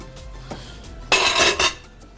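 A bowl clatters and scrapes against a hard surface in a short burst of clinking kitchenware, with quieter handling noises before it.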